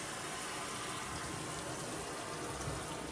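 Hot tap water streams steadily over an acrylic pour to wash off silicone, a continuous close rushing splash with no pauses.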